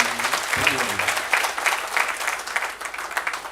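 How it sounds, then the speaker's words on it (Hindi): Seminar audience gives hearty applause to welcome first-time attendees at an RCM leadership event, a continuous crowd clapping with fluctuating intensity and a brief voice near the start. "एक बार जोरदार तालियां बजाइए।"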